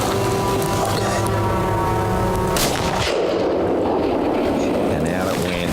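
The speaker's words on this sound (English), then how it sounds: "It was a perfect shot out of that great rifle." A rifle shot fired at a buck during a hunt at dusk, a single loud boom that rolls away into a long rumbling echo, with a voice talking throughout.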